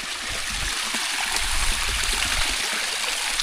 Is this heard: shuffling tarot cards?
no